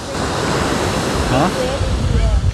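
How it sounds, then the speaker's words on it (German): Large ocean waves break and roar continuously at Bang Tao Beach in Phuket, a loud, steady wash of surf with wind buffeting the microphone and no voices. "Ja, große Wellen, also da gehe ich heute nicht rein."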